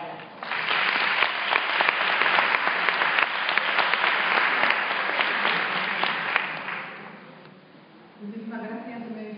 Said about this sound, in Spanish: le paso la palabra y un aplauso para ella